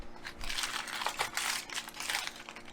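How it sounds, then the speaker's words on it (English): Aluminum foil crinkles and rustles continuously as hot habanero ribs are pulled free, a close, steady crackling texture with no talk. "I'm stuck to aluminum foil."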